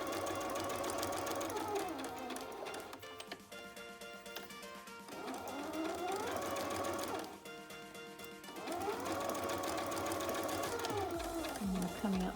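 A sewing machine stitches a toweling face cloth, its motor whirring in long runs that rise and fall in pitch as it speeds up and slows, with a short pause between stretches of stitching.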